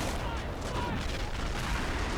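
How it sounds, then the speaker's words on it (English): Mortars and heavy tank cannons fire without pause in a war video game battle, a dense, loud rumble of overlapping blasts and gunfire that fills the whole clip with no clear gaps. "The mortars are going off. The heavy tanks, cannons are going off."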